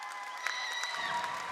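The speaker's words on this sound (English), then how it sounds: "Round of applause for Team 949." Faint, distant applause from a crowd at a robotics competition, steady and even, with some tonal background sound running beneath it.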